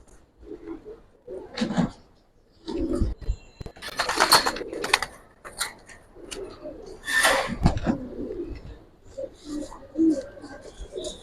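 Giribaz pigeons coo in bursts nearby, throaty calls rising and fading in uneven clusters with short pauses between them, mixed with some handling noise.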